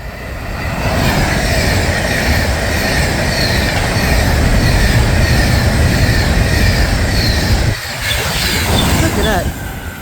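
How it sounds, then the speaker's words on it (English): A West Coast Class 390 express bound from Glasgow Central to London Euston rolls by close and loud, a sustained rushing roar with wheel noise and squeal that dips briefly near the end before resuming. "the Advanced West Coast Class 390 running 20 minutes late from Glasgow Central to London Euston"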